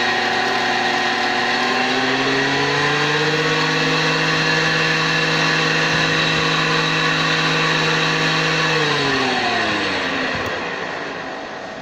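A jointer's electric motor driven by a 4 kW frequency drive, loud and close, a tonal whine that ramps up in pitch in steps, holds steady, then winds down as the speed is regulated; no voices.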